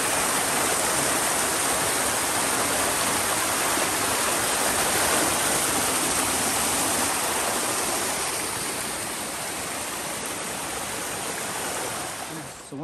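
A creek runs over its bed in the outdoors, a dense, continuous rushing and splashing of water heard up close and loud, easing slightly toward the end.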